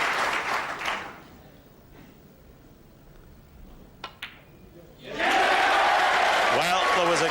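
A snooker crowd at the 1998 World Championship bursts into applause and cheering, a brief burst at the start fading to a quiet hall with a couple of sharp knocks, then a loud, sustained ovation at the end.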